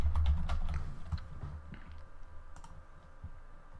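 Ruby code is typed on a computer keyboard in quick, uneven bursts of close, crisp key clicks with brief pauses between runs.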